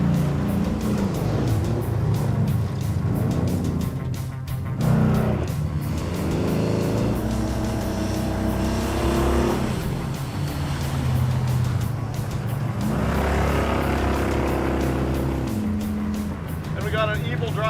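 A Plymouth Dart with a 440 V8 fires up and runs with a loud, rough, rumbling idle and revs rising and falling, while people talk over it throughout.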